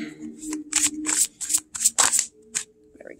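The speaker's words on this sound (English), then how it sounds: "let's pull a card here from the Native American Tarot" Cards from a Native American Tarot deck being shuffled and pulled, a run of sharp papery flicks and riffles up close, with a brief voice at the end.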